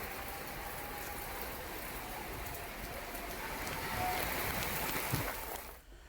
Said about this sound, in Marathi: आता पावसाने पुण्यात हजेरी लावली आहे